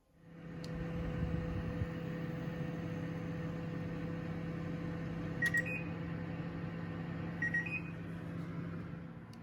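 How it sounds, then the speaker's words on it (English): Microwave oven heating butter and garlic, a steady low electrical hum running throughout, with a few faint high beeps partway through, close and without talk. "30 seconds in a microwave brings that down."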